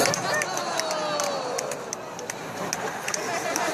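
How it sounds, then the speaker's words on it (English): Fan expo audience in a hall reacting with drawn-out oohs and boos, a steady crowd murmur with scattered claps and calls over a few seconds. "you better stop oohing and booing"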